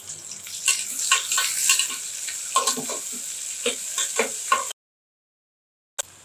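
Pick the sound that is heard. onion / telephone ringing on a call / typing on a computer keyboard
onion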